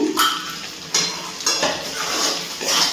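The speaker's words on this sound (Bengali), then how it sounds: "একটু নাড়াচাড়া করে নিচ্ছি আর দেখে নেব মাংস সিদ্ধ হয়েছে কিনা।" Chicken stirred in a pan over a low gas flame for chicken chops: close spoon scrapes and clinks against the metal pan in a few strokes, with a faint background sizzle.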